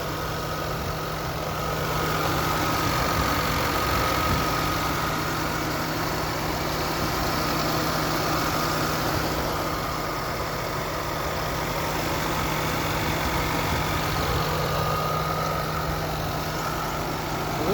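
A 1998 Cadillac's 4.5-liter engine idles steadily and close by, a smooth continuous hum with a faint whine and no voices over it.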